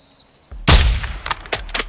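Gunfire from the Call of Duty: Modern Warfare 2 (2022) video game: a sharp, loud gunshot blast after a short quiet lead-in, followed by several quicker, weaker shots and echoing reports in a rapid burst.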